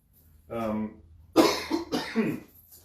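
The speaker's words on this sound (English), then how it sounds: "I've still got a little bit of cough." A single short cough close up, followed by a person speaking.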